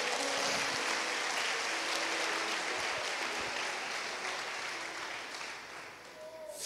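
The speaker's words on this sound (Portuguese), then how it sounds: "Dê um aplauso para o Senhor aí, irmão." A church congregation applauds steadily, a dense wash of clapping that holds for several seconds before slowly thinning out toward the end.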